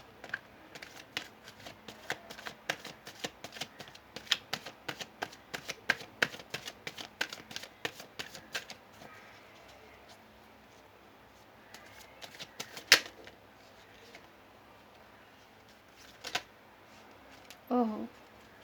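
Shuffling a deck of tarot-style reading cards, heard as a rapid run of crisp, close riffling clicks for the first half, then scattered single snaps and card slaps with quiet pauses between.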